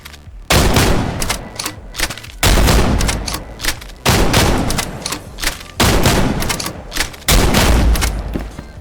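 Close, heavy shotgun blasts in the video game Contractors Showdown: five loud booming shots at roughly one-and-a-half-second intervals, each followed by a short decaying tail and faint handling clicks between.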